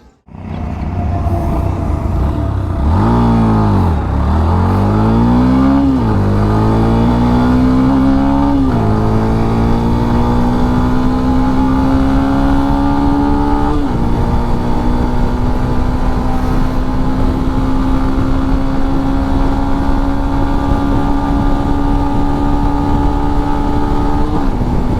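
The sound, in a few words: 2023 Yamaha FZ-X motorcycle being ridden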